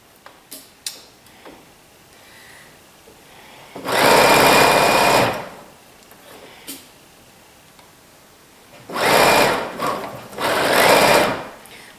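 A home sewing machine fitted with a stretch needle stitches in two loud bursts of about a second or two each, with a soft ticking pause and light handling clicks between them.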